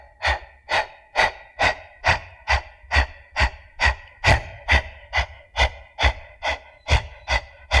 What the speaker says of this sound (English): you're just going to be panting, focusing on the out breath